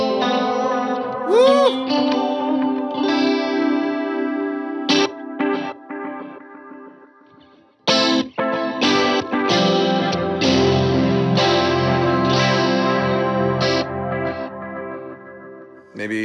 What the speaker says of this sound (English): Put that chorus in there.